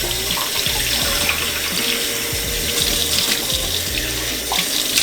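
Cold water runs steadily from a bathroom tap into a sink, a loud, continuous splashing gush with no pauses and no voices.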